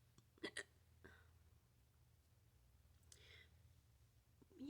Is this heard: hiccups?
yes